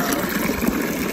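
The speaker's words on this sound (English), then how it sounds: "There's like this little well where you can fill up your water bottle in." Water runs steadily from a small mineral-water well in cold, icy Sofia, Bulgaria, a continuous close gushing hiss with no talk.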